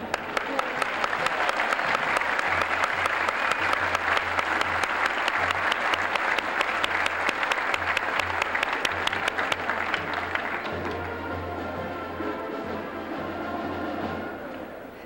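A large crowd at the 1994 Harvard Commencement afternoon session applauds the band, a dense steady roar of clapping that holds for about ten seconds, then thins and fades toward the end.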